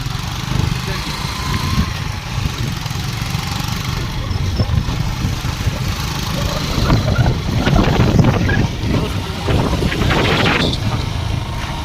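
A vintage Yamaha Crux motorcycle engine runs steadily while being ridden over a rough, damaged road, a low continuous drone with wind rushing past the microphone, and someone talks over it.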